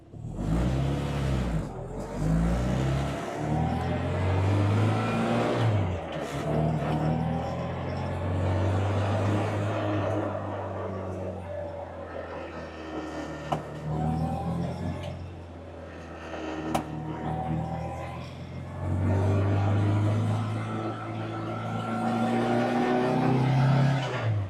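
A car fitted with an HIF carburetor and a high-flow cylinder head accelerates along small city side streets in Charlotte, engine rising and falling through repeated revving pulls, loud and close throughout.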